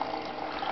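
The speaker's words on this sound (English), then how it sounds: "You're gonna see the servo pours the water out" An Arduino-driven servo on a homemade tea robot tips a container and pours tea water. A steady, close trickle and splash of liquid runs throughout the short moment.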